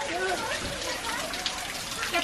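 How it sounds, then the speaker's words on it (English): Rain patters and hisses steadily on surfaces outdoors at The Forbidden Corner, a dense close wash of drops with faint voices mixed in. "Please stop raining again."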